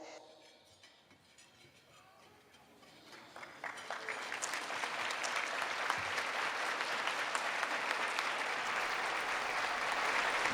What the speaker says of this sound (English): Please give this group a big round of applause.